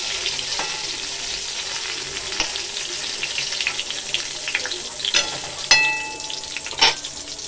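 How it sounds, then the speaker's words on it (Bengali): Brinjal (eggplant) frying in oil in a wok, a steady close sizzle with sharp crackles and spatters throughout and a few louder pops near the end, no talking. "তো এখানে বেগুন ভাজা হচ্ছে হোক"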